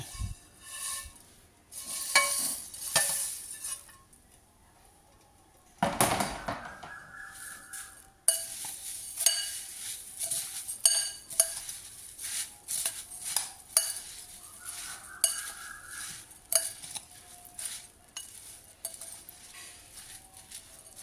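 Puffed rice tipped into a bowl for a chaat and tossed with spoons, giving a run of clinks, scrapes and light rattling knocks, fairly close, with brief pauses between bursts of mixing.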